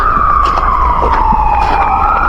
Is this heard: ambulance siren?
yes